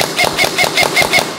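A G&G airsoft rifle with a G2 gearbox fires on semi-auto, six crisp, evenly spaced shots about a fifth of a second apart, each a sharp mechanical clack with a bright metallic ring, close and loud.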